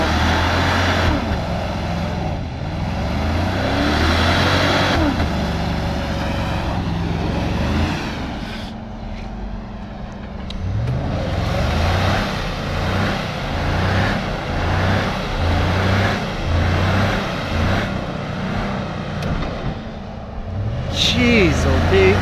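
A Chevrolet 4x4 truck drives across open flats, its engine droning loudly and continuously as it rises and falls with throttle changes. Voices talk over the motor throughout.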